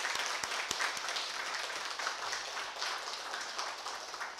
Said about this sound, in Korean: 함께 환영의 박수 한번 치겠습니다.